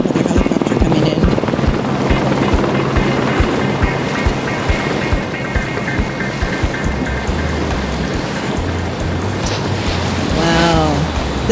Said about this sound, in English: Another helicopter coming in.